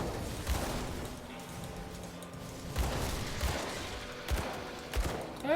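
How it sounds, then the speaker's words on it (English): Pistol gunshots in the Grim Dawn video game, a handful of sharp separate shots spaced irregularly over quiet ambient game sound, fairly faint overall. "looks like our pistol does reasonable damage"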